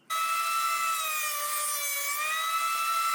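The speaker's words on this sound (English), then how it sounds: "24-inch belt sander." A 24-inch belt sander sands a wooden sword, giving a loud, steady whine with strong tonal overtones that starts suddenly and holds evenly close by, with no talking.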